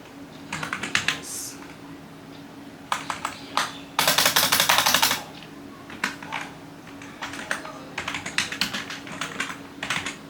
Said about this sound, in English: we'll type the word Jules Verne